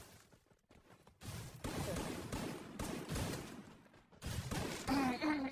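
Rapid bursts of gunfire ring out in a battle royale match during a Garena CR League grand final, loud and dense throughout with sharp crackling shots and a brief tonal effect near the end.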